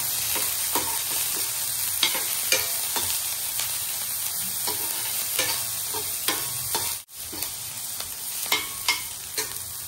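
Chopped onion sautés in a hot pan while preparing a raw banana bhaji, a steady close sizzle broken by repeated scraping stir strokes every second or so, no voices.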